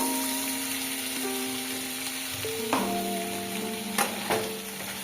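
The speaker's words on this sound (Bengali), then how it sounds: "আদা রসুন বাটাটাও ভালোভাবে কষিয়ে নেব" Ginger garlic paste fries with softened tomatoes in a pan for chicken changezi: a steady close sizzle runs under a sustained tonal hum, with a few sharp clatters of stirring near the end.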